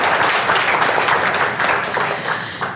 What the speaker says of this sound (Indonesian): Tepuk tangan jangan sendirian.